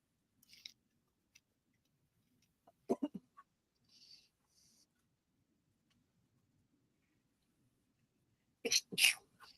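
A single sharp sneeze bursts out near the end of an otherwise quiet stretch, preceded by a few soft clicks and faint rustles.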